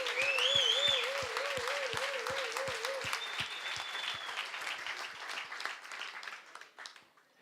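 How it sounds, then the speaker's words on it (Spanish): Sustained crowd applause at an outdoor political rally, dense clapping that fades gradually toward the end, with a loud whistle-like tone early on and faint voices underneath. "empecemos con un aplauso para todos y todas los que estamos aquí."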